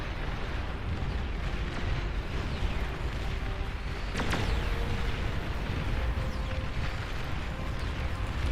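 Artillery units firing in the real-time strategy game Beyond All Reason, a steady dense rumble of continuous battle noise with one sharp crack-like burst partway through, loud throughout and no talk.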